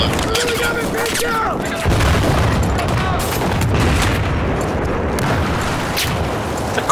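Battlefield 4 multiplayer combat with booming explosions and rapid bursts of gunfire, loud and dense, a heavy blast hitting around two seconds in, with players talking over the noise.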